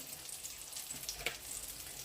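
Slices of eggplant with minced meat fry in an oil-filled pan, giving a dense, steady sizzle with small crackles and pops and no talking.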